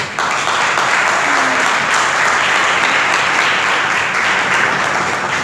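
Church congregation clapping loudly during a service, a steady sustained wave of applause lasting several seconds, close and full, with no voices over it.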